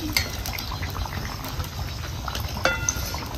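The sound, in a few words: vada fritters frying in oil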